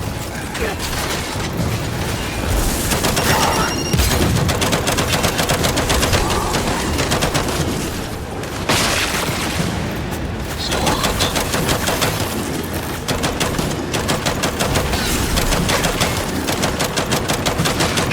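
Sustained automatic turret gunfire in Gears of War 5 pours out as dense, loud rattling bursts for the whole stretch, with only a brief dip before the firing resumes, layered with mechanical clatter of the battle.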